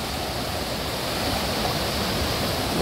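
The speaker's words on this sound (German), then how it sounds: "da ist schon mal so ein kleiner, schöner Wasserfall, schön laut" A small waterfall in a forest roars loudly and steadily, a dense continuous rush of falling water filling the whole clip with no voices.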